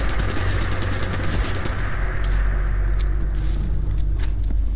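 Rapid automatic fire from a 10mm SMG in the video game Fallout 4, a dense, sustained burst over a steady rumbling game background, followed by scattered sharper shots and impacts.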